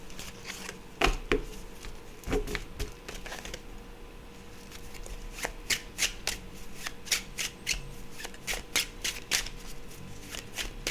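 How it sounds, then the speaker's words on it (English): Tarot cards being shuffled by hand close up, with repeated quick riffles and soft flicks in irregular bursts, quiet and without talking. "Let me give it a shuffle."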